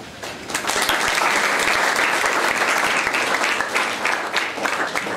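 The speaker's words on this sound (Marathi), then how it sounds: "आपण टाळ्या वाजवून स्वागत करूया।" An audience claps to welcome guests at a Constitution Day school and junior college event, a dense, loud burst of applause that swells quickly and holds steady before thinning slightly.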